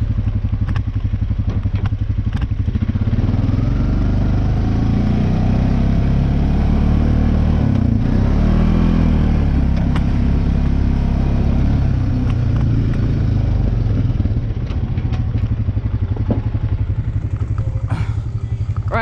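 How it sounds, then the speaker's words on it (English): An old Honda Rancher three-wheeler's engine runs steadily and loud up close for the whole stretch, a low rumbling drone with mechanical clatter on top, in a snowy setting in Mexico. "I'm gonna hop on the old Honda Rancher."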